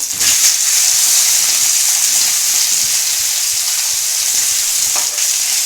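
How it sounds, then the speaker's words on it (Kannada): Fish fries in a pan over a high flame, giving off a loud, steady, bright sizzling hiss that carries on without pause, broken only by a faint tap or two. "ಇನ್ನು ಒಂದು ಸೈಡು ಕ್ಲೀನಾಗಿ ತುಂಬ ಚೆನ್ನಾಗಿ ಫ್ರೈ ಆಗಿದೆ. ಸ್ವಲ್ಪ ಹೈ ಫ್ಲೇಮಲ್ಲೇ ಇದೆ."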